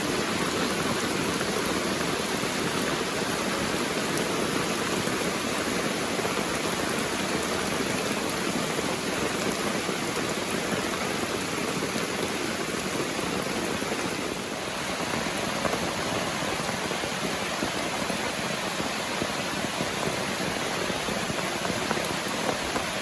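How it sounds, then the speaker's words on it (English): Steady rain falls on a tent at night during a July section hike on the Appalachian Trail. The dense, even patter and hiss continues without a break, close and enveloping, with no talking. "just fall asleep to the sound of the rain."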